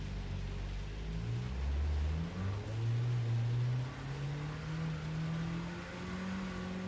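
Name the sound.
car engine revving in a video game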